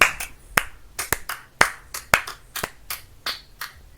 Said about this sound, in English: Clap it. Clap it.